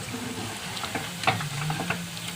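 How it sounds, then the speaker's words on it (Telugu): Onion pakoda deep-frying in hot oil, a soft, close bubbling sizzle with faint crackles and a few small clinks, steady and low-level with no talking. "పకోడీ అయితే నాకు ఈ విధంగా వేగింది"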